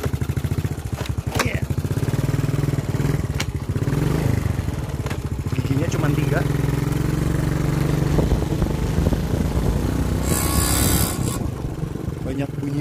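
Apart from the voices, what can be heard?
1982 Honda C86 motorcycle riding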